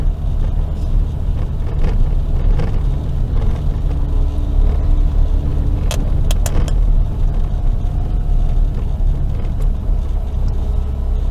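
A car drives along a rough, dusty stretch of the Southern Coastal Highway in St. Thomas, Jamaica, a loud, constant low rumble of engine and road noise with a few faint rattles from inside the cabin.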